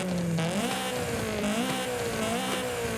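Toyota AE86 racing car with a race exhaust and aftermarket intake in Forza Horizon 5, engine droning loud and steady with the pitch wavering up and down as it revs, no talk.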